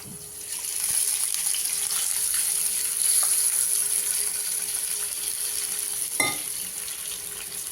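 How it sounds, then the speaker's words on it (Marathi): A cup of water pours into one and a half cups of wheat flour in a home kitchen, giving a steady, soft hiss and trickle that lasts several seconds, with a brief clink near the end and no talking. "एक कप यामध्ये मी पाणी घालतेय"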